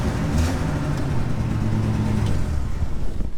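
A six-cylinder crew cab truck engine idles steadily at close range, a low continuous rumble with a faint rhythmic throb and no voices.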